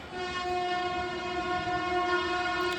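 A train horn blares in a long, steady harmonic blast, loud and close, holding without a break; no voices.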